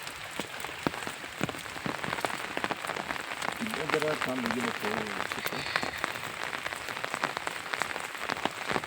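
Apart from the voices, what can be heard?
rain falling on a garden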